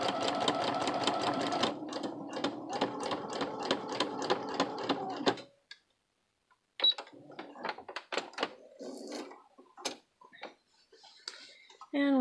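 Sewing machine with a presser foot stitching bias tape, a fast even needle chatter for about five seconds, then a pause and scattered clicks and short bursts of handling sounds.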